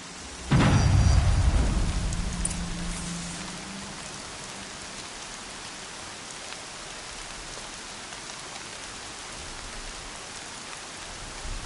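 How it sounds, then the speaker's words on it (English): Steady, fairly loud rain from the video game Horizon Zero Dawn, arriving with a low rumble of thunder at the start, then settling into an even hiss of rainfall with no voices. "More rain."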